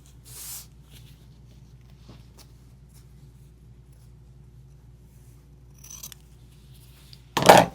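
Scissors snip through a strip of material in a close, quiet craft setting, with one short cut early and a louder crisp burst of cutting near the end.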